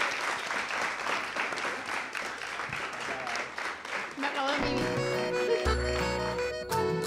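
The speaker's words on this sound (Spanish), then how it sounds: "Vamos a darle un aplauso porque lo han hecho genial" Applause for students on a Canarias radio show recorded at the Liceo Francés de Tenerife: a dense round of clapping for about four seconds, then cutting into a music jingle with tonal sounds.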